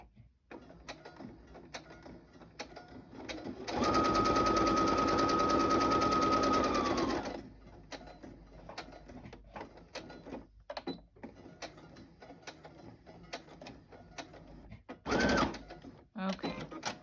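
Sewing machine stitching around paper book-page craft tags, a loud close burst of motor whir lasting a few seconds, with a shorter second run near the end and talk in between.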